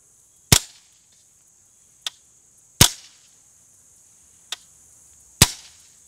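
Five sharp, close suppressed .22 rifle shots crack out at irregular intervals, two louder than the other three, each a short snap with a quick tail and quiet between.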